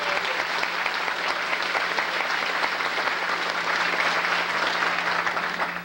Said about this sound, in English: If you two ladies will stand, we want to give you special applause